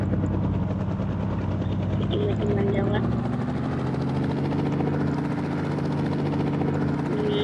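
A steady, droning video-game helicopter rotor and engine hum runs throughout, with someone talking over it.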